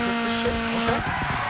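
Tires skid and squeal as a car drifts in the DIRT 5 racing game, engine droning loudly underneath with a steady tone that breaks into rough scraping bursts.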